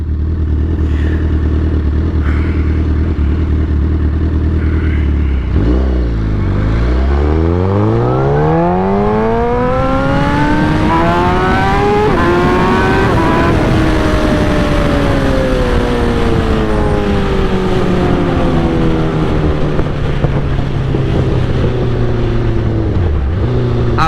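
A 2008 Suzuki GSX-R 1000 sportbike fitted with velocity stacks idles roughly, then its engine is revved hard, climbing sharply in pitch and sliding back down slowly, loud and close throughout.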